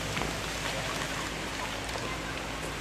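Steady rain falls on an outdoor cooking spot where fish is grilled, a soft, continuous hiss of drops with no talk.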